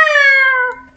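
A person imitates a giraffe with one loud, strained, meow-like vocal wail that bends slightly downward and trails off within about a second.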